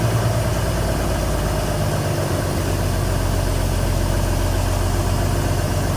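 A 1982 Kenworth K100 truck with a 350 Cummins diesel idles steadily, a close, loud, even low rumble with a constant throbbing texture and no talking.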